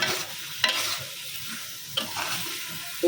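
Eggplant pieces go into a pan of frying spice mix, making a steady sizzle with sharp scraping stirs of a spatula at intervals, heard close with no talking.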